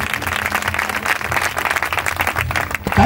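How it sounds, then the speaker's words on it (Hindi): Congregation clapping hands together during a Christmas church service, a steady dense patter of many palms that carries on throughout, with a low hum beneath and no clear speech. "हाथ ताली दियो"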